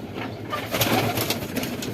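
Pigeons coo softly over dense, close bird murmuring and rustle, with no talking, in a continuous low ambience.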